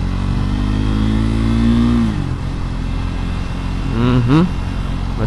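A Triumph Scrambler 400X revs up close, its engine pitch climbing, dropping as a gear is shifted, then rising again in a quick second rev, loud and uninterrupted by talk.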